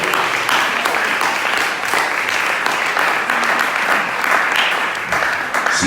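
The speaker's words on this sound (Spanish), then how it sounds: "Un aplauso para el Señor Jesucristo." A church congregation claps steadily and fairly loudly for several seconds, a dense, even wash of applause with no voices rising above it.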